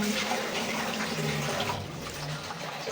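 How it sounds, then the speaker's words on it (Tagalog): Water pours steadily as a school classroom is cleaned, a continuous close splashing rush that lasts throughout without a break. "Lagyan ko na tubig."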